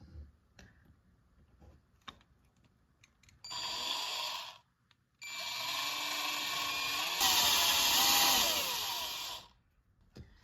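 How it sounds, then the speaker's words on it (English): A small power drill bores holes into a mini golden trout crankbait lure for weights, in two sustained high-pitched whining bursts, the second longer, with light handling clicks and taps between. "So time to drill."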